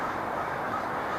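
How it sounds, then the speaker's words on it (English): Hundreds of crows gathered at a Portland waterfront park make a dense, continuous wash of cawing, heard from a distance as a steady crowd of overlapping calls. "Hundreds and hundreds of crows."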